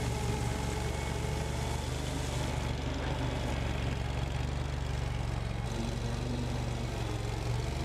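A Ventrac tractor, HB580 with a Steiner 430, runs at lowered RPM while driving a power broom over plowed gravel. Its loud, steady engine drone and brushing rumble sound very close and continuous, with no talking.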